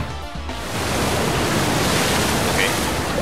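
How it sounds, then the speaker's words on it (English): Water spell attack in the video game Blue Dragon, a loud rushing, splashing wash of noise like surging water that swells and holds steady, with no talk over it. "let's see how much a water spell does against these guys"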